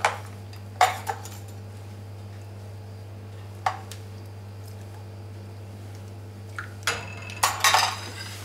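Crème brûlée mixture being divided into ramekins, heard as scattered clinks and knocks of utensils and dishes over a steady low hum, close and fairly quiet, with a cluster of clatters near the end.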